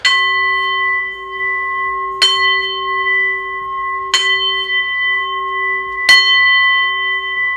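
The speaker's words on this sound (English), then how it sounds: "It's a singing bell." Singing bell struck four times at even intervals of about two seconds, each strike a bright metallic clang that rings on with a long, steady sustained tone, close and loud with no talking.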